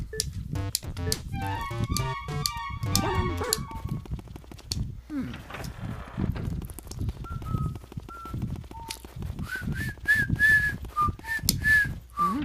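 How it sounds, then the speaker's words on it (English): A person whistling a tune alongside Luigi's Mansion game sounds, clear rising and falling whistled notes amid clicks and background game noise, with some talking. "Luigi whistles, so I wanted to whistle too"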